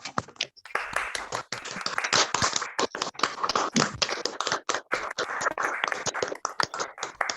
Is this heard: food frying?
no